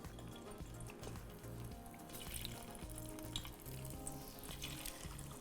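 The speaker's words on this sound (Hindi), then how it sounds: "साथ ही मैं ये फ्राई करने के लिए डाल दूंगी।" Pieces of marinated chicken frying in a pan for chicken chilli dry, giving a steady, moderately loud sizzle that runs unbroken throughout, with a faint undertone from the stove.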